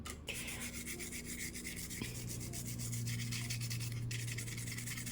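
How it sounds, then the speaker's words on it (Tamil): A rag wet with thinner scrubs a soldered circuit board for a bridge rectifier, giving a quiet, continuous rubbing and scrubbing sound close by, with no voices. "இதில் நம்ம தின்னர் ஊற்றி இப்போ நம்ம க்ளீன் பண்ணிக்கலாம்"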